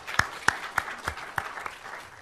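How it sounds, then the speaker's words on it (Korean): A church congregation at a Sunday service claps in a slow, steady unison rhythm of about seven distinct hand claps, moderately loud in a reverberant room. "주님 앞에 영광의 박수 드리겠습니다."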